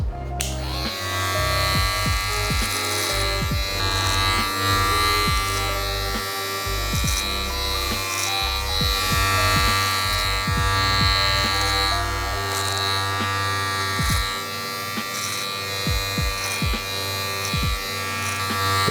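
A steady electric buzz of hair clippers trimming a beard close up, with faint crisp cutting noises as it trims, continuous with no talking.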